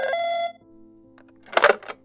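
A telephone rings with a steady electronic tone that cuts off after half a second, followed by a brief rattling clatter near the end, as if a handset is being lifted.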